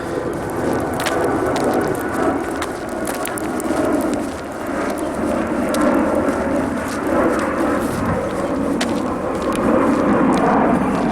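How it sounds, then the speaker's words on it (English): Jet planes taking off from nearby Frankfurt Airport make a broad, continuous rumbling roar over a wooded area, steady and fairly loud throughout, with scattered crackles and rustling in the foreground. "Frankfurt Airport is just very nearby here, so I can hear and see the planes taking off."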